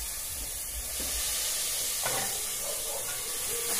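Free-range chicken sizzles in fat inside an iron pot, giving a steady, fairly close frying hiss with faint clinks of stirring.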